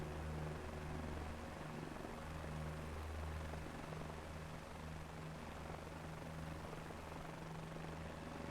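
Helicopter in Microsoft Flight Simulator 2024, a steady droning rotor and engine hum with a low rhythmic thrum running throughout, continuous and fairly loud with no talking.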